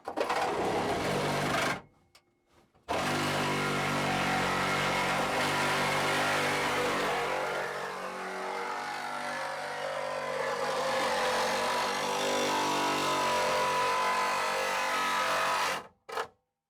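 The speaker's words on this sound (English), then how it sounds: "Devin and I are working on cutting this floor out of this so we can have something to mount our suspension to in the Celica" A power tool grinds and cuts through the floor of a Toyota Celica, a loud continuous whine that shifts in pitch as it bites, breaking off briefly near the start and stopping at the end.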